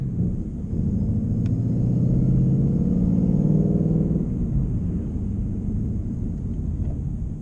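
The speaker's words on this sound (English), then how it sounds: "So let's take this sucker for a drive and see how it sounds now with that whine." A 2022 Mustang GT fitted with a Roush supercharger and whine mod drives past, heard as a steady low engine rumble with a faint rising whine that swells then eases, with no talking.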